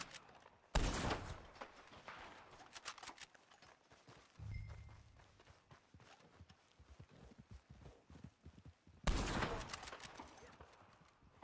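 Gunfire in Red Dead Online, two loud sharp shots standing out several seconds apart, mixed with horse hoof clip-clop and footsteps in an open-world Western setting.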